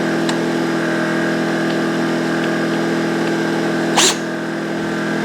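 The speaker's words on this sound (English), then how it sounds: "I got a generator running outside." A generator runs outdoors as a steady, continuous engine drone with a constant hum, heard throughout, with a brief sharp burst of hiss near the end.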